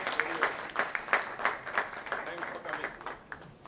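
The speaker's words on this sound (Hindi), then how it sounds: "मैं चाहता हूं कि एक बार आप सब अपनी उपस्थिति जोरदार तालियों से दर्ज करवाएं।" An audience applauds at the launch of a Big FM 92.7 show with Anup Jalota, producing a steady, fairly faint patter of many hands clapping in quick rhythmic bursts.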